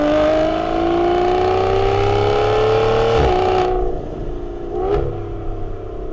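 A 2015 Aston Martin Vanquish with a special exhaust in sport mode, a loud sustained engine tone climbing steadily, then a sharp drop and brief blips as the revs fall away.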